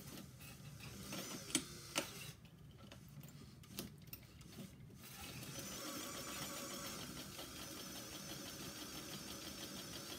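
Vintage sewing machine stitching a quarter-inch seam on a kitchen towel, a few sharp clicks and knocks early, then a steady mechanical whirr of stitching that holds for the last few seconds at moderate volume.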